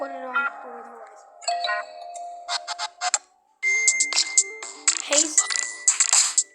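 Samsung Galaxy A03 phone playing its Over the Horizon ringtone: a bright melodic chime sequence of plucked and bell-like notes, close and clear, with a brief pause midway before a fuller, busier passage resumes.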